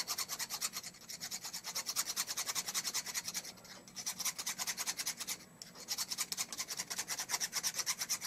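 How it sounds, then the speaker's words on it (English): Steady rhythmic rasping of a file or abrasive working the inside of a folded silver coin ring made from a 1972 Munich Olympic coin, close and continuous strokes with a brief pause midway. "Just going to take the burrs off the inside."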